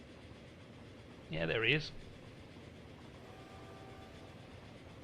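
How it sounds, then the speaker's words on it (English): A train in the video game Transport Fever rolls into a station, heard as a steady low rumble throughout, with a brief spoken remark over it and faint tonal notes later. "I think our third train is just pulled into the station here."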